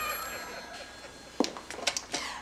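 A telephone rings in a room, its bell trilling in several short bursts after a quieter stretch, loud and close.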